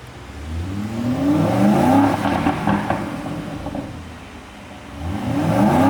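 A tuned Aston Martin DBX engine revs up in a long rising sweep, holds, eases off, then climbs again, loud and close, with no talking.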